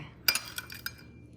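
Metal utensils clink and scrape against a bowl while ingredients are mixed for stir-fried morning glory, a few sharp close taps in quick succession followed by softer scraping.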